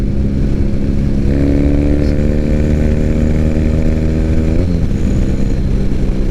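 A 2006 Triumph Bonneville motorcycle on the move, its engine a loud, steady droning hum with a brief pitch shift near the end as the rider changes speed.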